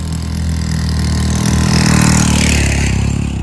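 A motorcycle engine as villagers ride along a narrow village path to the fields in Dieng, a loud, close engine drone that swells slightly as it revs, with no talking.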